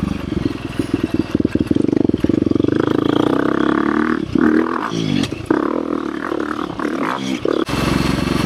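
A 2023 KTM 350 XC-F Factory Edition dirt bike engine roars loud and close, revving in rising and falling bursts with throttle blips and rough, gravelly idling between pulls.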